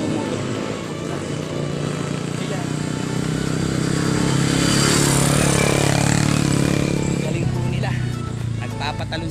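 Motocross motorcycles ride past on a mountain route, a broadband engine roar that swells to a peak midway through and then recedes, with people talking over it.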